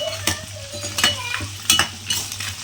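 Onions sizzle in oil with four dried red chillies for a mutton kuzhambu, a steady fry broken by several sharp spoon scrapes and clanks against the pan, close and fairly loud.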